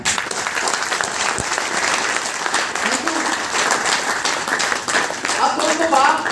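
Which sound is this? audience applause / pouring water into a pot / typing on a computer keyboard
audience applause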